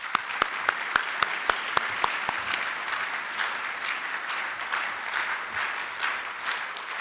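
Applause from a banquet audience at an agricultural engineering student design competition, greeting a speaker to the stage. Sharp claps stand out at first, then blend into a steady, sustained ovation with no talking.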